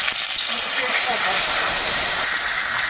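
Dried red chillies sizzle in a little hot oil, tempering boiled dal, a steady close hiss with no break across the clip.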